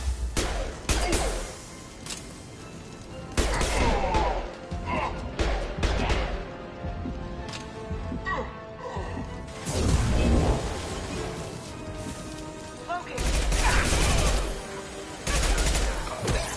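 Combat gunfire from Mass Effect 2 fills the scene: dense bursts of automatic fire and shots crack repeatedly in clustered volleys, with impacts and shattering debris mixed in, loud and close throughout.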